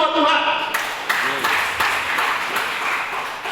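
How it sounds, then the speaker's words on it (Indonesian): A church congregation applauds together during a worship service, a dense, steady wash of clapping that fills the room after a brief voice at the start. "Kasih tepuk tangan dulu buat Tuhan"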